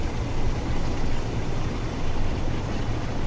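Class 380 electric multiple unit running on the Cathcart Circle in Train Sim World with a modded sound set, giving a steady low rumble and rolling noise with slight swells and no voices.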